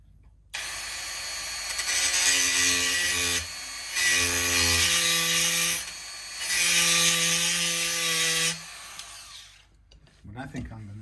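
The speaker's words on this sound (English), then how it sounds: "these little Dremel blades, cutting discs" A Dremel cutting disc grinding into a PRS Silver Sky guitar, a loud high-pitched whine in three long bursts with short pauses between, close and harsh, then fading into small handling noises.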